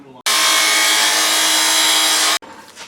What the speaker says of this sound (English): we already have a chop saw handy, so we're just going to do it that way